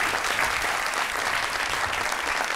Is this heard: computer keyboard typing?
no